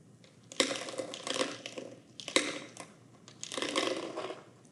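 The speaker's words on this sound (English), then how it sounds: "let's fill it with our wooden beads" Small wooden beads rattling and clattering into a plastic bottle in three separate bursts, fairly close and moderately loud.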